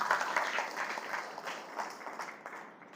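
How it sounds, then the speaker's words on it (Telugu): An audience at a devotional Sai satsang and bhajan gathering claps together, a brief, dense burst of many hands at moderate distance that tapers off. "చప్పట్లు కొట్టండి ఒకసారి."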